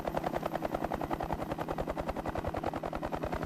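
Aircraft ascending, a loud rapid rhythmic rotor chop like a helicopter, steady and close throughout with no voices.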